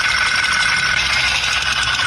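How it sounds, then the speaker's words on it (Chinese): A car engine with a broken piston pin runs steadily, giving a continuous, fairly loud mechanical drone with a bright, harsh ringing edge throughout the short stretch, with no talking over it. "活塞销断裂异响"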